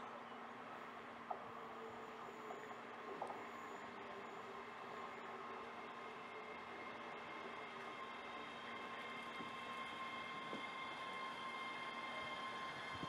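Train pulling into platform 1 at a Scottish railway station, a three-carriage service bound for Glasgow Central, heard as a steady broad rumble with sustained tonal hum and a few brief clanks, continuous and moderately loud throughout.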